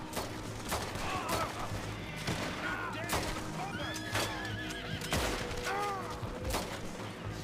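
Horses whinny and neigh repeatedly as riders approach in the Red Dead Redemption 2 game world, with loud gunfire bursts and hoof noise mixed through a dense, busy action scene.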